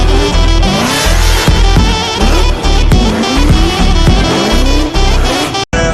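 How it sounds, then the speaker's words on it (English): A car at full speed goes into a handbrake drift, a loud sustained engine roar with squealing tires and a heavy pulsing beat running throughout, cutting out sharply near the end. "Full speed, and then handbrake."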